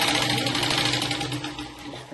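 A sewing machine stitches a blouse in one continuous, steady run of rapid whirring, close and fairly loud throughout.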